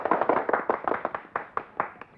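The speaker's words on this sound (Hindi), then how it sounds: "तालियां!" Applause in a village gathering honoring an officer who pledged to build a cement road: a short burst of scattered hand claps, several quick uneven claps close by, thinning toward the end, with no voices.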